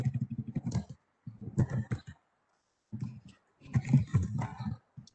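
Bursts of clicky keyboard typing in short runs separated by pauses, fairly close and moderately loud, with no voices.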